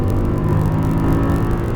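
An Audi R8 accelerates hard on a racetrack, its engine a steady, loud, dense roar from inside the car with no voices.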